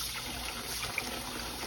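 Tap water running steadily close up to rinse raw lamb chops in a kitchen, a continuous even gush without any speech.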